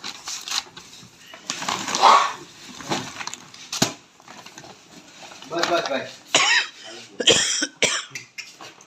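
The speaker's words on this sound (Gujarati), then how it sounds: "ખાલી શ્વાસથી લેવાથી એમને પણ ઉધરસ ચાલુ થઈ ગઈ" Several harsh coughs, brought on by breathing chemical colouring fumes in a sauce factory, break out amid people talking, with some clattering in the background.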